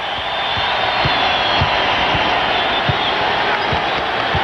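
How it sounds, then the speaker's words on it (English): A basketball arena crowd at the Arco Arena in Sacramento roars steadily throughout a 1998-99 Jazz vs Kings playoff game, a dense sustained cheer with faint ball bounces thudding regularly beneath it. "the crowd at the Arco Arena comes alive"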